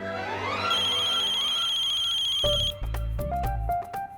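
A phone ringtone plays alone at close range: a bright, steady electronic melody that shifts partway into a sequence of distinct stepped tones, loud and continuous.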